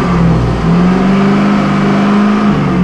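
A car engine with a lean-condition fault, P0171/P0174 codes, revs steadily at raised RPM, a loud continuous drone holding its pitch with a slight rise, alone with no talk.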